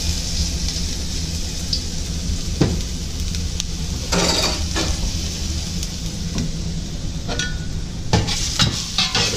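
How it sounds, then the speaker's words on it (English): Garlic and ginger sizzle steadily in hot oil for spare ribs in black bean sauce, with a few sharper scrapes and clatters of stirring breaking through the continuous close-up hiss. "Quick mix around in the oil."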